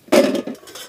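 Metal stove pipe sections for a hot tent clink together as they are handled, a short sharp metallic knock followed by a softer rattle, close and brief.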